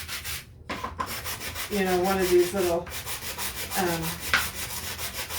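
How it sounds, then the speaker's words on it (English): Wooden plaque being hand-sanded to a rustic finish for a Christmas present shelf sitter, a steady rasping rub with repeated strokes, close and loud, with brief speech in between. "I just want it to look a little more rustic, so I'm just going to sand it a little bit."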